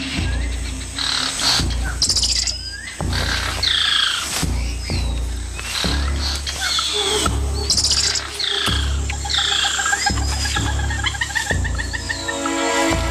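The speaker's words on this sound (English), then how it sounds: "A squirrel monkey spots a harpy eagle and sounds the alarm, alerting everything in earshot." Squirrel monkey alarm call in the Amazon rainforest canopy after spotting a harpy eagle, heard as repeated sharp, high chirps and twittering calls in rapid, uneven bursts over dense jungle background.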